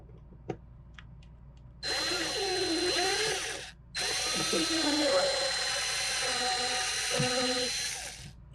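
A power drill whines loudly in two long bursts separated by a brief pause, drilling out rivets, its pitch wavering as it bites through metal, with faint clicks beforehand.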